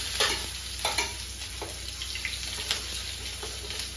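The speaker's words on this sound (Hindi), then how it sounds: "अब हम इसमें ये प्याज जो कटिंग किया हुआ है ये डाल देंगे" Chopped onions frying in oil with asafoetida for a curry, a constant close hiss of sizzling with a few soft scrapes of stirring.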